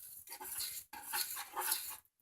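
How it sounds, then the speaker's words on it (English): A spoon stirs wacky cake batter in a bowl, two quiet bursts of wet scraping and clinking against the dish, close and faint with no talk. "So we're going to stir this well."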